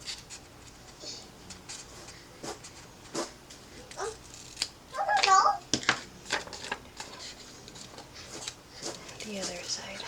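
Scissors trim the paper edges of a Filofax planner page, giving faint, scattered snips and one brief louder rustle, with soft talking in the room.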